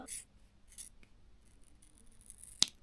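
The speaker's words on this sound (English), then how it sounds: "Cut that out with the scissors." Scissors cutting out a homemade gasket for an electrical fix on a Giant Fathom E3 e-bike: a few quiet, crisp snips spaced out, with a sharper final snip near the end, close up.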